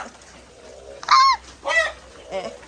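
Three loud, nasal quacks from a nearby duck, spaced about half a second apart, the first the strongest, over a quiet background.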